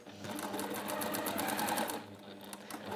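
A sewing machine stitches fabric, running in a fast, steady mechanical rattle of needle strokes that carries on for a few seconds up close, alone.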